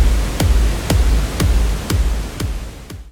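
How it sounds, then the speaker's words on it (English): A kick drum from a music mix before gain staging thumps six times at a steady pace, loud and boomy over a dense wash of noise. "Here's the kick before gain staging."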